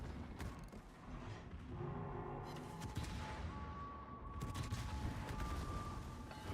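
Naval guns of warships firing in a battle video game, rumbling booming salvos and blasts layered over continuous low game noise, with a steady tone sounding partway through.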